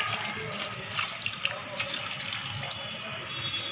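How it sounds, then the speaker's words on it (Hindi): Ginger-garlic water is poured into raw washed chicken pieces in a cooking pot, a steady splashing trickle of liquid with a few drips, close and moderately quiet, without talk. "मैं डालता हूँ अदरक लहसुन का पानी।"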